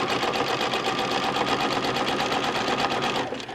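A sewing machine runs fast and steady while free motion quilting through fabric, a continuous buzzing clatter of rapid needle strokes that slows and fades at the end, with no talking.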